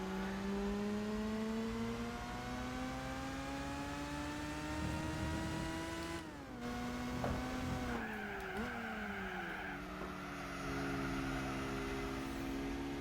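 A Mazda RX-8 race car's rotary engine in Gran Turismo 4 drones with a high, steady whine that climbs slowly with speed, then drops and shifts pitch as the revs fall away, loud and close, without talk.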